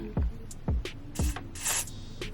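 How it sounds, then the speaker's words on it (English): A can of adhesive spray fires short, hissing bursts onto a synthetic wig, about five quick sprays in an irregular rhythm, close and fairly loud, with faint handling noises in between. "we gonna just use this Wander adhesive spray"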